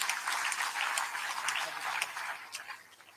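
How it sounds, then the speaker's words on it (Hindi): A devotional gathering's audience claps in welcome for an arriving group at a spiritual discourse, a soft, distant patter of applause sustained throughout with talk underneath. "ताली बजाकर अभिनंदन।"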